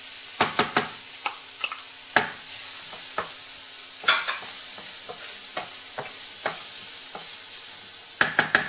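Salted vegetables sweating in a pan while being stirred: a soft, steady sizzle under irregular utensil scrapes and clicks against the pan, close and fairly quiet, with no talking.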